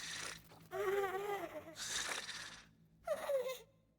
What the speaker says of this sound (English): They give them like a snoring sound.